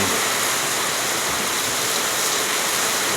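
Steady, loud, broadband hiss of rain falling outdoors, continuous and unbroken with no other sounds.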